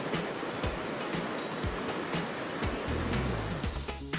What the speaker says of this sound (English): found this beautiful little creek in Robbinsville